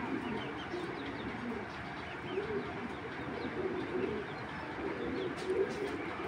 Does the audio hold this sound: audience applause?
no